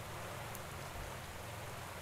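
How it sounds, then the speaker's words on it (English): Rain falling in the cycling game Pro Cycling Manager 2016 during a race stage, a faint continuous hiss of steady downpour with no voices. "The rain is non-stop."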